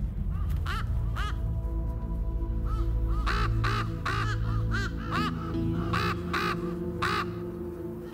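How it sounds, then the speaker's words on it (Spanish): Desert ravens caw near a breeding ground: a string of harsh, repeated calls, sometimes single and sometimes in quick pairs, fairly close and clear over a constant low ambient hum. "Varios cuervos desertícolas se han instalado en las inmediaciones."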